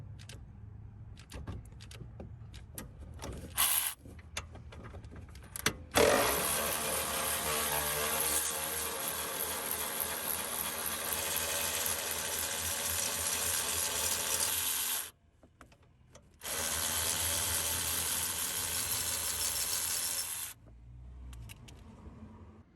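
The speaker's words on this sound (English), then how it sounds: "I bought this cheap electric ratchet from Amazon." A cheap electric ratchet from Amazon removes bolts on a wrecked BMW 435d 4 Series, its loud buzzing whir running in long bursts with brief gaps between, close by in a quiet workshop.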